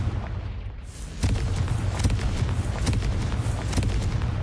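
Confringo blasting spell exploding in Hogwarts Legacy, a burst of booming crackle that swells into a dense, continuous rumble of popping impacts, loud and close with no talk over it.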